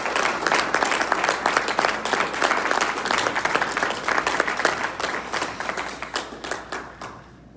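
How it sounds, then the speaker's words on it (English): A round of applause at a club meeting, with a modest group clapping in distinct, fairly close individual claps that hold for several seconds and then thin out and fade. "can we give a round of applause for"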